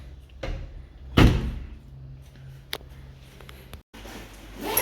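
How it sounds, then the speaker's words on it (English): A motel room door swings shut with one sharp, close thud near the start, followed by softer handling clicks and a muffled room background. "Close the door."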